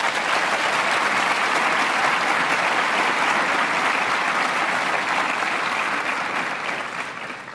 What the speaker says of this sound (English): Please give these two individuals a round of applause.